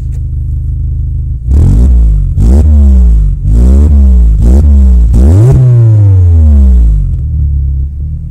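A Peugeot 206 RC engine idles, then is revved in five sharp blips with rising and falling pitch, the last held longer before settling back to a steady idle, loud and close with no talk.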